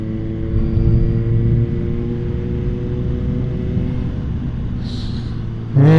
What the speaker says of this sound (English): it's a nice exhaust sound